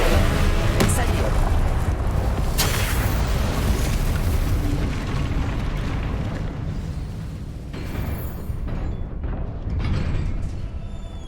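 Fiery spell blasts from the Incendio fire charm in the video game Hogwarts Legacy, loud booming bursts with a sharp hit near the start, over continuous rumbling game noise and faint talk.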